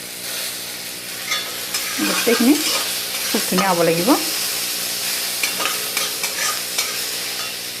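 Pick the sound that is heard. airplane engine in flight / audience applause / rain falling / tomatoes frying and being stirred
tomatoes frying and being stirred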